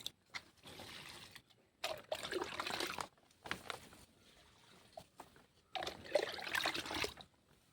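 Homemade liquid fertilizer poured onto a vegetable plant, coming in several separate soft splashing and trickling bursts with short quiet gaps between them.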